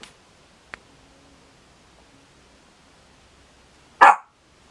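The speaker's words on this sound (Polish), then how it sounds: "tam coś widzi za oknem i szczeka" A single sharp dog bark at something outside the window cuts through a quiet room near the end, preceded by a faint click, with no talking.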